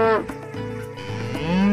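A toy water buffalo gives a loud, drawn-out electronic moo with a rising then falling pitch, close and alone for under two seconds.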